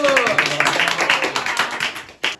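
A church youth group audience claps after a prize is announced, a brisk ragged patter of hands that fades toward the end before one last sharp burst, with a voice briefly heard under it.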